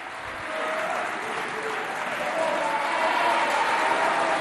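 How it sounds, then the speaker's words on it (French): An audience in a school hall claps steadily and fairly loudly throughout, a dense sustained wash of hands with faint crowd murmur underneath and no break. "On applaudit bien fort."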